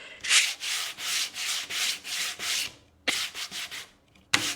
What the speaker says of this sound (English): So this guy's gonna go this direction, so I'm gonna be sanding in.